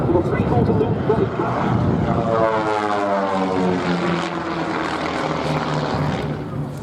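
Pitts S-1D aerobatic biplane flying a display at the Duxford airshow, its propeller engine droning loudly then sweeping past with a falling pitch as it performs a loop manoeuvre, with a commentator talking over it.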